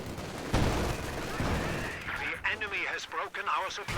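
Automatic gunfire from the WWII-style strategy game Gates of Hell/GCS2 match, a loud sustained barrage of shots and rumbling bursts that continues while a commentator talks over it.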